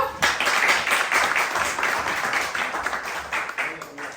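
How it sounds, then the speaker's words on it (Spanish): A church Bible class bursts into applause that starts sharply, holds as a dense wash of clapping, then gradually thins and fades toward the end. "Entonces, primero denle un aplauso"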